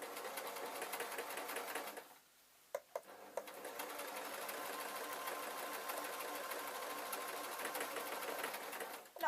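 Sewing machine stitching the waistband of suit trousers, a fast, steady mechanical whir with a short pause near the middle before the stitching resumes, close by and fairly quiet.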